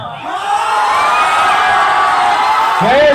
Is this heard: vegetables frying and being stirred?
no